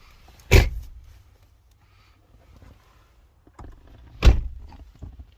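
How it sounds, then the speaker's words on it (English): Van back doors slammed shut from inside, two loud heavy thuds about three and a half seconds apart, close by, with quiet rustling between. "So we open the back, we get in. So we'll shut the doors."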